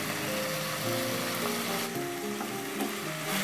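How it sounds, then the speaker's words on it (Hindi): Potatoes and curry leaves frying in a pan for sabudana khichdi, giving a loud, steady sizzle with occasional stirring scrapes throughout. "अब डाल देंगे आलू, क्योंकि आलू भी इसके साथ फ्राई हो जाएंगे।"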